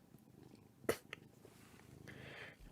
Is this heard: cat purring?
yes